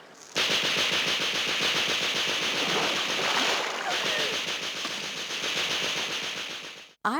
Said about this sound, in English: setting up machine guns behind us